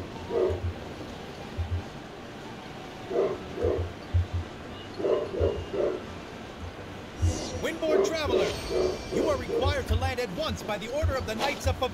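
A dog gives short bursts of barks and yips in repeated clusters at moderate distance, becoming more frequent toward the end, while people talk over it.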